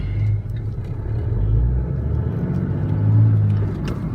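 A low, steady diesel engine rumble from a Cummins pickup with a G56 manual transmission idling nearby, clutch released, with a faint whirring from the clutch running underneath.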